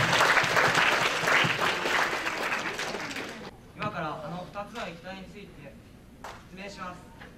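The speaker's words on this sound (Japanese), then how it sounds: "皆さん、拍手をお願いします" Applause from an audience at a high school science club's chemistry demonstration show, a dense, loud wash of clapping for about three seconds that cuts off abruptly, followed by a presenter talking.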